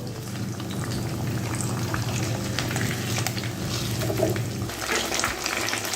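Katla fish fries in hot oil in a pan, a continuous close sizzle and bubbling crackle that holds steady throughout with no voices.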